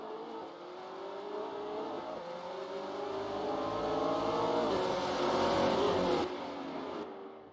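Race cars in a 2013 Guerreiros do AV sprint race surge off the start, a loud layered engine roar with rising revs building over several seconds before easing slightly near the end.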